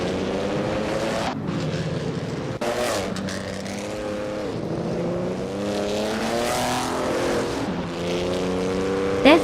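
Vintage race cars from a video game, including Ferrari 375s, roar around a track with high-speed corners, several engines overlapping and passing with shifting pitch, loud and continuous, with brief tire squeal.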